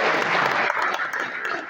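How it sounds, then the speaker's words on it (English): A live audience at a devotional talk and camp bursts into dense, steady applause, many hands clapping together at close range with no speech over it. "Give him a clap."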